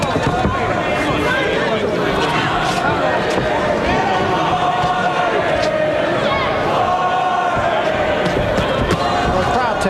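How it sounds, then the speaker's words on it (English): A dense, steady roar from a boxing arena crowd during the Oliver McCall versus James Stanton fight, the mass of voices sustained and loud throughout, with commentary talking over it. "the crowd takes up a chant of boring, boring"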